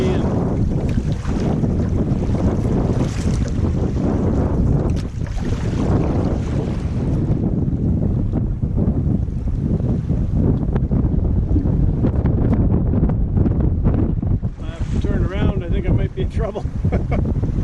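Strong wind gusts and choppy waves batter a solo canoe near a rocky shore, a loud, steady roar with heavy wind buffeting on the microphone and sloshing water throughout.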